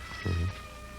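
A single cat gives one short, close meow over a quiet indoor background hum.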